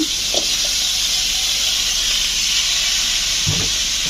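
Vegetables dropped into frying spices for a dried fish and eggplant curry, producing a loud, steady, broad sizzling hiss throughout, with a couple of faint low knocks.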